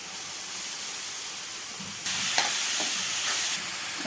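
Blended cabbage and coriander leaves frying in hot oil in a pan, a steady close sizzle that jumps louder about halfway through, with a few soft stirring scrapes.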